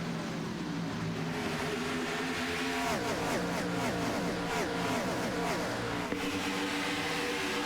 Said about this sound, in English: it's fun hearing this car clear by the static cam